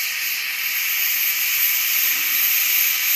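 A gas welding torch burning a hotter flame while welding magnesium with filler rod gives off a loud, steady, unbroken hiss from start to finish.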